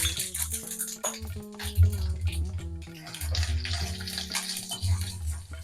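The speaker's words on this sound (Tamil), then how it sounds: "கடாயில எண்ணெய் விட்டுருக்கேன். கடுகு, உளுத்தம்பருப்பு, கடலைப்பருப்பு, முந்திரி பருப்பு தாளிச்சுக்கலாம்." Mustard seeds, dals and cashews sizzle in hot oil in a kadai, giving a fizzing hiss with irregular crackling bursts at moderate loudness over faint tonal background sound.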